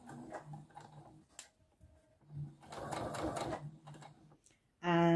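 A sewing machine with a zipper foot stitches piping in short, soft mechanical bursts between pauses, with a voice talking under the stitching and a louder buzzing run of the machine at the end.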